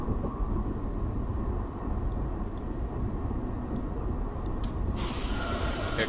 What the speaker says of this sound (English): Here comes the train that we were gonna meet